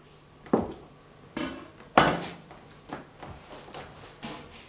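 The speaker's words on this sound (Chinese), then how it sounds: "切成均等的剂子。" A knife cuts a rolled log of risen wheat dough into equal pieces for fried dough sticks, giving several sharp, uneven knocks on a board nearby, with quieter taps in between.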